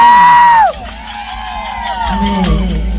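A village crowd cheers and whoops at a Ganesh immersion festival with devotional bhajan music in Ghogha, starting with rising shouted whoops and then settling into a dense, sustained roar of cheering.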